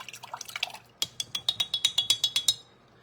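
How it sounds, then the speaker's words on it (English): Paintbrush rinsed in a water cup, a close series of small clinks and splashy taps, first irregular and then a quick regular run of about a dozen knocks. "Let me rinse my brush out more."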